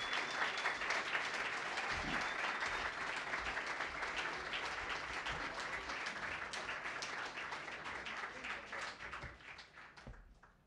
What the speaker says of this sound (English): Would you give another round of applause to him, please?